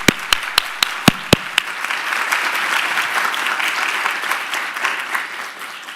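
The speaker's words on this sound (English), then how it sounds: "give one more round of applause" Audience applause at an Oxford Latin American business summit: a few sharp, close claps open, then swell into a steady, dense round of clapping that holds for several seconds.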